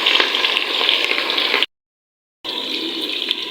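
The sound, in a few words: onions frying in ghee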